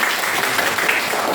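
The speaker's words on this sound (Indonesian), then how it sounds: "tepuk tangan untuk kelompok kasih" Brief burst of applause in a classroom for a student group, a dense steady patter of many hands clapping at close range with no break.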